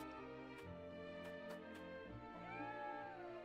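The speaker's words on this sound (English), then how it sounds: "Ah, a cat." A cat in the video game Triangle Strategy meows softly and briefly over steady, dense background music, the rising and falling call faint under the score.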